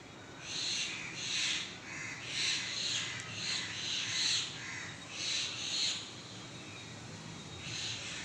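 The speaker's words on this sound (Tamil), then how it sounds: "ஆனால் இன்றைக்கி இந்த பறவை வந்து பயங்கரமாக கத்துது" A bird, not a crow, calls loudly outdoors in repeated harsh cries roughly every half second to second, over a steady noisy background.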